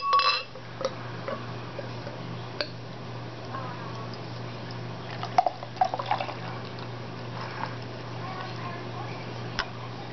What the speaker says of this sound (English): So let's give her a pour.